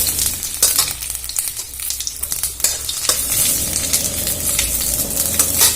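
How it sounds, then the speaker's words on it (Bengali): Bay leaves, dried red chillies and panch phoron fry in hot oil, giving a loud, continuous close sizzle with scraping stirring sounds and no talking. "তেলটা গরম হয়ে গেলে দিয়ে দেবো দুটো তেজপাতা, দুটো শুকনো লঙ্কা, আর দিয়ে দেবো একটু পাঁচফোড়ন। ভালো করে ভেজে নেব।"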